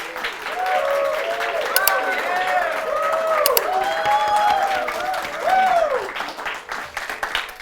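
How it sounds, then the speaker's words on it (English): A studio audience applauds contestants in a televised youth debate competition, a steady wash of clapping with cheers and some voices mixed in, sustained at a fairly loud level throughout. "can we get a huge round of applause for these amazing contestants?"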